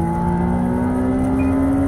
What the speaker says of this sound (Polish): Fajnie brzmi, nie? On się kręci do ponad 8000 obrotów.